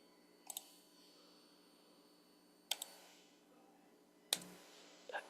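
Computer keyboard key presses, a few sharp isolated clicks in short pairs separated by quiet gaps, close and fairly faint.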